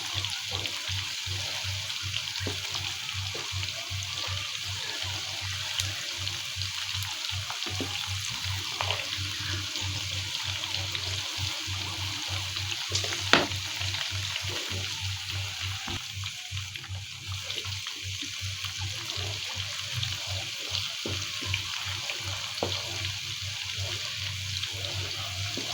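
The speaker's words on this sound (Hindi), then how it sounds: "इसकी आंच भी नॉर्मल रखनी है, धीमी रखनी है, ताकि ये तेल जले ना" Mustard oil warming in a pan over a low flame gives a steady, soft hiss and faint crackle that runs evenly throughout, with no talking.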